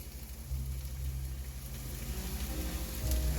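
Oil sizzling in a hot pan before garlic and onions go in, a steady close hiss with a low rumbling hum underneath throughout.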